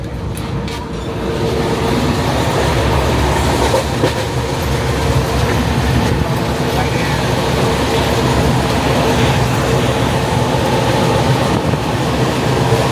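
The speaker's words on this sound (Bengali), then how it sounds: "ট্রেনের গতিবেগ মোটামুটি 100-এর কাছাকাছি আছে।" Steady, loud rumble of a passenger train running on rails at about 100 km/h between Bardhaman and Bolpur, with continuous rolling noise and faint clatter throughout, no talking.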